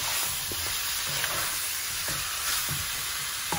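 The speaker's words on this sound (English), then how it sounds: "So I'm going to cook this just on high heat for 5 minutes now." Four chicken thighs and four drumsticks sear with onions over high heat in a pan, producing a loud, dense, continuous hiss with only faint stirring movements underneath.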